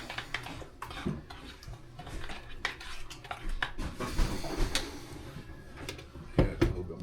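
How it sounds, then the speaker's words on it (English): Curing mix worked into pineapple pork jerky in a bowl, with clattering utensil scrapes, knocks and shuffling handling sounds, moderately close and irregular. "Mix all that cure in really well."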